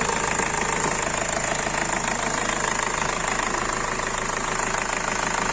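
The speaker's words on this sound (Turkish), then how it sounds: "aracımızın motoru gayet sağlıklı görünüyor. Sesinde de herhangi bir problem yok." A Ford Connect 1.8 diesel engine idles steadily and close, with a constant knocking rumble and rattling vibration throughout, no voices.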